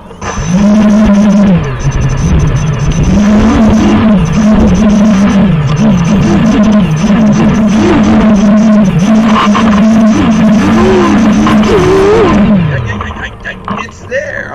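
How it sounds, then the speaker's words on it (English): Electric propeller motors on a model SpaceX Starship SN4 spin up to a loud, steady whine with slight pitch wobbles, holding for about twelve seconds before winding down near the end. "We're going to turn the motors on for this first test."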